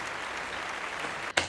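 Audience applause rising as a steady broadband wash of clapping, loud and continuous, then briefly breaking off before a sharp burst at the end.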